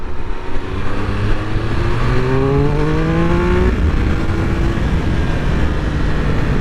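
A 2021 Triumph Speed Triple 1200 RS motorcycle accelerates hard, its engine note climbing in steady pitch sweeps broken by quick short-shifted gear changes, loud and close amid constant wind rush.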